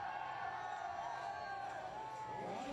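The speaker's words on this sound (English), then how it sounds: "Petra getting a lot of praise from the crowd, a lot of encouragement to hurry up or allez" Crowd at a climbing World Cup final in Champagny, urging on a climber named Petra: a steady murmur of many voices with rising calls and shouts of encouragement, moderately distant and fairly faint.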